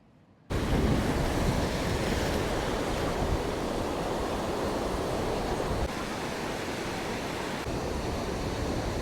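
Sea waves wash onto Tajpur beach in a steady, loud, continuous roar of surf with a breezy wash, running alone with no voices.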